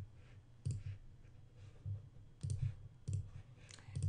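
Computer mouse clicks, several sharp distinct clicks spaced irregularly over a few seconds, close and alone with no talking.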